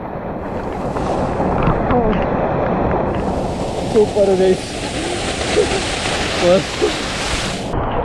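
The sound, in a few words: flowing river water on the Kedarnath trek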